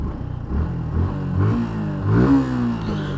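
A Suzuki Gixxer Fi motorcycle engine revs up and down in steady, loud pulses, close to the listener, with no talk over it.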